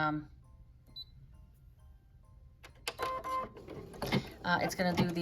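An embroidery machine begins stitching a satin stitch, a fast rattling mechanical whir that starts after a quiet pause and grows busier and louder toward the end, close up.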